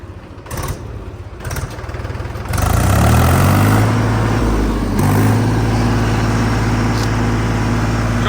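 A new Mahindra 265 XP Plus tractor engine starts and runs at a steady, loud, close idle in hot weather, with low rumbling harmonics and no talk over it.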